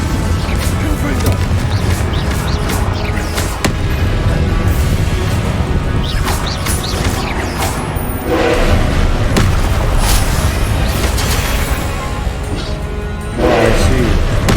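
In the video game Hogwarts Legacy, a Confringo spell sets off explosions amid dense, loud booms and crashes of combat, with voices talking over the din.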